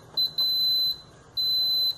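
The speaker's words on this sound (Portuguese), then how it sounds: "Já bipou, vocês viram, né?" Electronic beeps from an Electrolux air conditioner: two short high tones in quick succession, then a longer one after a pause, clear against a quiet room.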